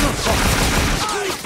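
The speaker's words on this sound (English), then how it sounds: "This gun sucks, it needs to get reloaded like every 3 seconds." Rapid gunfire from a gun in the PS2 video game Scarface rattles loudly in a dense burst of shots, with a voice briefly heard near the end.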